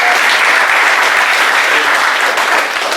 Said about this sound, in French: on peut applaudir bien fort